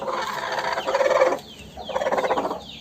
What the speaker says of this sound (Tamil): ரெண்டு கோழி இருக்குது.